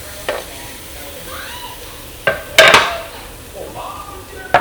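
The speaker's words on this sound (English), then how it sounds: "Hear that sizzle." Chicken dropped into a preheated pan sizzles with a steady, soft hiss, broken by a few sharp clanks of a utensil against the pan.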